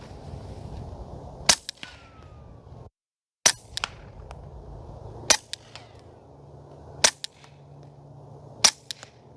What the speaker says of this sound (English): G44 suppressed, dead air mask.